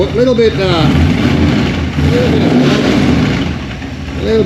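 A smoky, worn Holden HT V8 engine idles and gets revved around the back of the car, a rough loud rumble rising in brief pulls, with someone talking over it.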